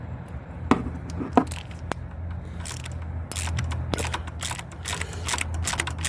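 A ratchet with a 10mm socket works on the EGR valve bolt of a Chevy 5.7 Vortec, giving close, sharp clicking in irregular runs of quick ticks with a few louder snaps and no voice.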